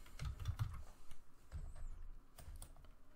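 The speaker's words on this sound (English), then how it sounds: "So I'm just typing some random API key" Quiet typing on a computer keyboard, short bursts of soft key clicks separated by brief pauses, close and alone.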